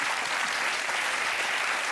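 Studio audience applause on a French television talk show, a steady dense wash of many hands clapping continuously and fairly loud throughout, with no voices standing out.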